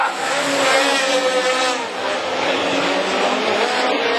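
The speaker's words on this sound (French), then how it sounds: "Il revient au freinage alors que là-bas, Souster fait l'extérieur à Martin" Super 1600 rallycross race cars in a European championship round, braking and racing close by: loud engines rise and fall with a brief tyre squeal, while a commentator talks over them.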